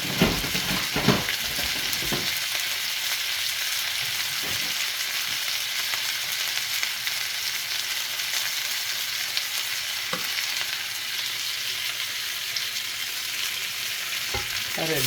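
Pork browning in a black frying pan for a Bolognese, with an even, steady sizzle up close and a few soft utensil knocks early on and near the end.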